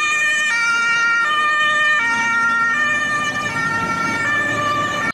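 A toy fire truck's electronic siren wails loud and close, cycling through bright stepped electronic tones without pause, with no talking over it.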